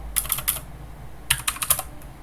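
Fingers type on a computer keyboard in two quick bursts of close, crisp key clicks, separated by a short pause, with no talking.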